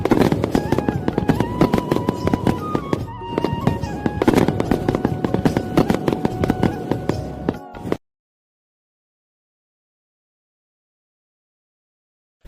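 Diwali firecrackers bursting in rapid crackling volleys with sharp pops and bangs, loud and dense for about eight seconds before cutting abruptly to silence.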